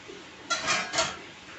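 An appe pan is set down on a stove burner, two quick metallic scrapes and clunks close together, close and moderately loud against a quiet kitchen.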